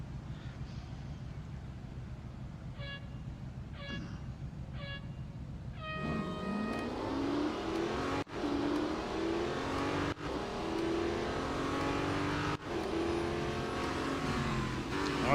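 Race cars accelerating in the video game Real Racing 3: a steady hum that jumps into loud, rising engine revving, with repeated upshifts and brief dips as gears change, continuous and close.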